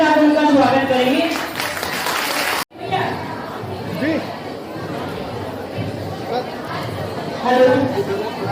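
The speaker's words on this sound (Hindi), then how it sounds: "आप सब तालियों के साथ उनका स्वागत करेंगे" Applause from a gathered crowd at an outdoor kalash yatra religious procession, clapping mixed with chatter and background murmur, briefly cut off and resuming lower.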